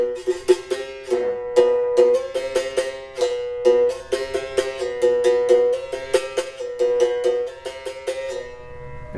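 Beginner playing berimbau unevenly through rhythm transitions, a bright twangy struck tone with buzzing rattle, a string of sharp strikes in a halting, irregular pulse, close and alone.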